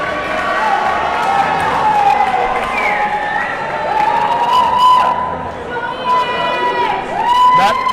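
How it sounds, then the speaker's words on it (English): Spectators at a bocce finals match give a sustained burst of cheering and shouting, a dense crowd roar that swells and dips across the whole stretch with overlapping voices. "Now that's a crowd overreaction"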